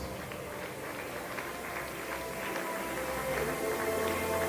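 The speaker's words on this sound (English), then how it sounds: "Give them a round of applause" Audience at a Nigerian public relations week event in Uyo applauding a committee, a steady wash of many hands clapping at moderate distance, sustained and even, with no talk above it.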